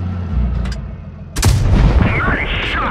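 A tank cannon fires one sharp, loud boom in the World of Tanks Blitz video game, followed by a rumbling tail and game sounds, with a voice talking before the shot.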